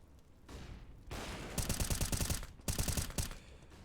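Rapid bursts of AK-47 rifle fire in Counter-Strike on the Overpass map, several sharp automatic volleys with brief pauses between them, loud and close over game ambience.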